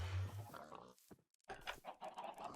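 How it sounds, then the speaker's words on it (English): Video-game chickens and other farm animals on a Minecraft farm cluck and grunt in a busy, loud jumble, briefly cutting out mid-clip before the clucking resumes. "you'll be able to hear the annoyingly loud amount of chickens"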